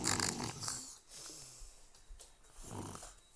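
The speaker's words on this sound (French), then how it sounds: "Ça fait que de ronfler." A person snoring in a car on a long road trip, with a few rough snoring breaths spaced across the moment, over a steady cabin hum.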